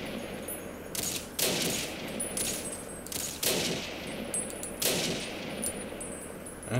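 Gunfire in Fallout New Vegas with a modded Kar98 or MX Garand: several loud, sharp shots in separate bursts, each ringing out briefly, with a metallic clang and ding between them.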